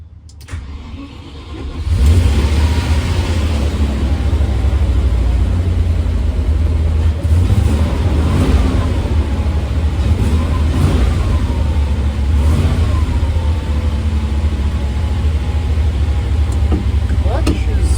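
A Land Rover 90 engine roars at full throttle with the accelerator floored, starting after a short quiet lead-in and then holding a loud, steady, close drone that wavers slightly throughout.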